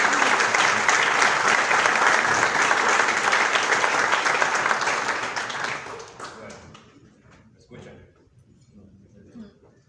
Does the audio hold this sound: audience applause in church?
yes